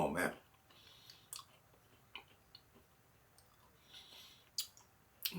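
Crunching on a freeze-dried miniature cheesecake, with a few sharp close-up crunches and clicks standing out over a quiet, faint background.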